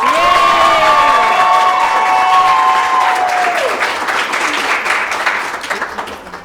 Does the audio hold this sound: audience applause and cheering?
yes